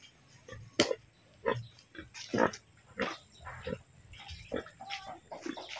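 A pig on a farm makes a series of short grunts and snorts at irregular intervals, fairly faint and close, with scuffling noises and no talking.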